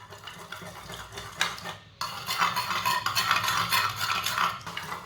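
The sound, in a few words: whisking eggs in a bowl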